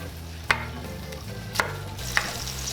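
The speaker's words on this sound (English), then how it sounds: "my skillet is still kind of heating. This is a big skillet, but we just want to kind of soften up our onions." Onions softening in a big hot skillet, a steady low frying sizzle with occasional stirring scrapes, three sharp utensil clicks standing out against the pan noise, no voices.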